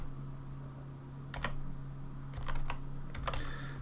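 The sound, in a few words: typing a formula on a computer keyboard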